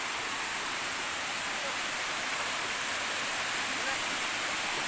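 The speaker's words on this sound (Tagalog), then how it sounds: "So sa baba, dyan yung bagsakan ng tubig." A waterfall on Iling Island near San Jose, Magsaysay, heard from above the falls as a steady, dense broadband roar of falling water that fills the whole clip without letup.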